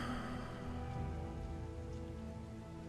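Steady rain falls in Darkest Dungeon 2 as a dense, even hiss over a low ambient hum, constant and moderately loud, with no speech.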